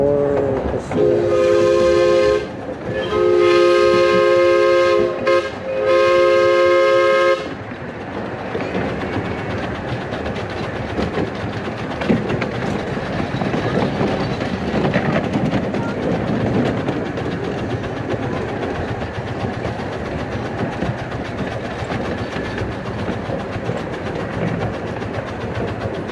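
A miniature steam train from 1985 on the Redwood Valley Railway in Tilden Park, Berkeley, sounds three loud whistle blasts, then rolls along the track with a steady rumble and clatter of wheels.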